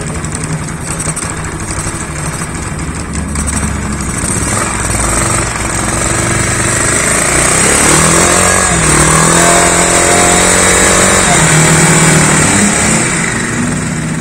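A small gasoline engine on a test stand, fed from a hose instead of its tank, cranks and catches, then runs steadily and loud throughout with a rough, rattling drone that shifts pitch slightly toward the end.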